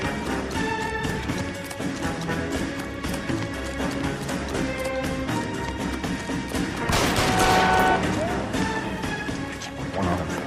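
Bursts of gunfire crackle through a police shootout in L.A. Noire, mixed into dense music and clatter, with a heavier crash midway; voices talk over the action.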